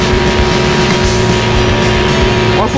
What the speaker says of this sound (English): the sound of the car here just keeps annoying after a while